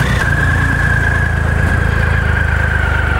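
A Triumph Rocket III Touring motorcycle with 4,994 miles idles steadily up close, a loud continuous engine drone with a thin whine running above it and no talking.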